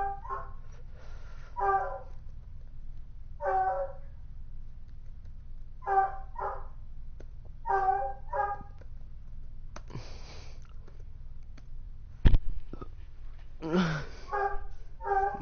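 Dogs in the Minecraft video game bark in short, sharp pairs and single yips, repeating every couple of seconds at moderate loudness, with a few clicks and a brief louder knock near the end.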